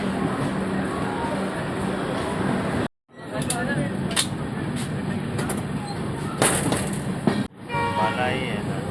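The Amrapali Express passenger train rolls along, a continuous rumble with clattering wheel and rail knocks, interrupted by two abrupt cuts, with people talking nearby over the noise.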